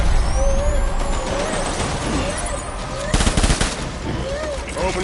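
Gunfire in the video game Death Stranding, a dense, steady barrage with a louder burst of shots partway through, mixed with rumbling game noise and faint voices.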